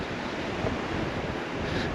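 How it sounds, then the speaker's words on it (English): Steady, roaring wind buffets the microphone on the open promenade deck 8 at the front of the cruise ship P&O Iona, a constant broadband rush with slight gusts and no voices. "it gets a bit windy"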